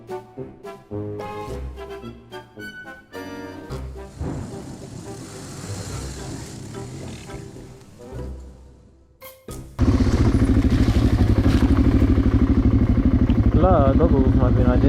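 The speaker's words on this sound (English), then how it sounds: "we've got two DRZs, a big single thumper and an enduro bike" Dual-sport motorcycles, DRZ400s and a BMW Sertao single, on a trail ride: scattered clatter and knocks at first, then a sudden loud, steady engine drone close to the mic for the last several seconds.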